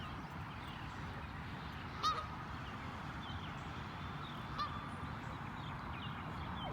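Geese at a lake park give a couple of faint, distant honks over a steady outdoor wash of wind and ambient noise.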